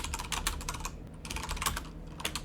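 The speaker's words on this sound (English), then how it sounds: "I'm just going to type these in real quick." Quick bursts of typing on a computer keyboard during a MonoGame 2D coding session, keys clattering in uneven runs with brief pauses, close and fairly quiet, no talking.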